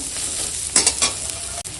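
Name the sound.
whole cumin frying with onion and chilli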